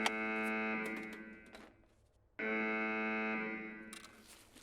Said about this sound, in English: I would suggest to stay away from this map. Just because of this alarm.